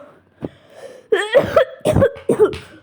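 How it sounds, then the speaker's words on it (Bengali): Someone coughs several times in quick, close bursts, with short pauses between the harsh fits and a little throat rasp. "একটু কাশি দিছি"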